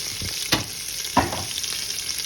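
Cumin seeds sizzle and crackle in hot oil for fried rice, a steady frying hiss broken by two sharp stir or scrape bursts, close and fairly loud.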